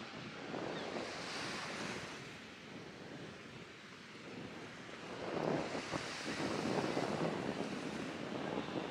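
Sea waves and gusty wind at Prasonisi beach on Rhodes, Greece, where two seas meet: continuous surf wash with buffeting wind noise on the microphone, swelling louder in the second half, no voices.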